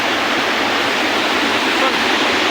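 River water at Udhampur rushes in a steady, dense roar, loud and close, with no break and no audible voices over it.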